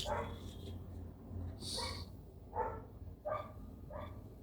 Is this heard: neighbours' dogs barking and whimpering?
yes